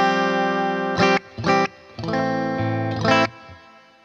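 Sustained electric guitar chords sound through a very long reverb, each chord ringing on under the next, with a few sharp percussive strums punctuating the smooth, overlapping tones before a fading tail.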